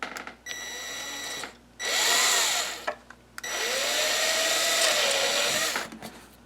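A small pilot drill and then a larger spade drill bore cooling holes in PVC pipe, heard as two separate whining power-drill bursts, each spinning up and then running steadily, close and fairly quiet with short pauses between them.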